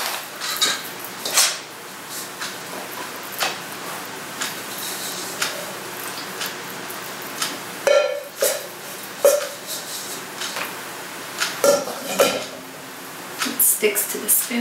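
A spoon spreads buckwheat pizza dough across a metal pizza pan, giving scattered clinks and taps in an uneven rhythm, with some talking in the background.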